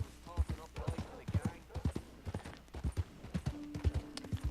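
A horse in the Red Dead Redemption 2 video game walks with steady, rhythmic hoof clip-clops, close and moderately loud, and a short tonal game sound comes in near the end.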